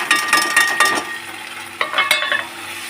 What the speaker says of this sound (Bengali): গ্যাসটা একটু কমিয়ে দেবো তেল ছিটকাচ্ছে